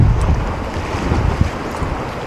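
Strong wind gusts across a seaside fishing spot at Bukit Asah, a loud, continuous roar and buffeting against the microphone, with surf rumbling underneath and no talk.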